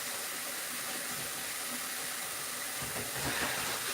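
Steady running water hisses continuously from a tap, with faint clinks and splashes of a pan used for frying meat being washed underneath.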